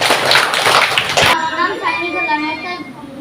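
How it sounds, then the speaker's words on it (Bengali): Children clapping hands at a school Baishe Shraban commemoration: a short, dense burst of close applause lasts just over a second, then cuts off as children's voices take over. "সুন্দর হয়েছে হাততালি হাততালি হাততালি"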